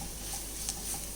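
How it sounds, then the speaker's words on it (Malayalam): A spatula stirs spice powders and ground black pepper sautéing in a pan, giving a soft, steady sizzle with faint scraping, low and close. "പൊടികളൊക്കെ ഒന്ന് വഴറ്റിയെടുക്കാം"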